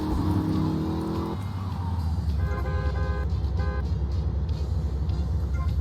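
Infernus sports cars in GTA Vice City, engines revving and cruising close by with a passing car and short horn toots, steady traffic noise throughout.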